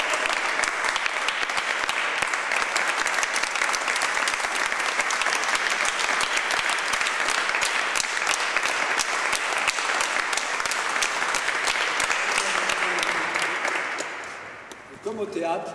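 A concert audience claps loudly and continuously for a choir performance of Ave Maria, voices faintly mixed in, the applause fading out near the end.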